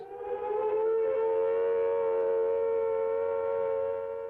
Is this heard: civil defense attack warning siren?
yes